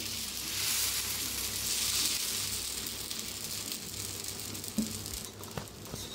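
Dosa batter spreads over a hot pan with a soft, continuous sizzle and light patter, fairly quiet and close, with a couple of faint clicks near the end.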